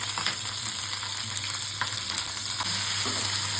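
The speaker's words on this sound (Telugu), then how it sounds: "ప్యాన్లో ఆయిల్ పోసుకొని జీలకర్ర, ఆవాలు, వెల్లుల్లిపాయలు, పచ్చిమిర్చి వేసుకొని బాగా వేసుకోవాలి" Cumin, mustard seeds, garlic and green chilies fry in oil in a pan for a bitter gourd dish, a loud, close, continuous sizzle with faint stirring scrapes and no speech.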